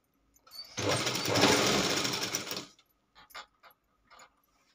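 Sewing machine stitching back and forth on a blouse seam, a short burst of fast whirring lasting about two seconds, close, followed by a few faint clicks and handling noises.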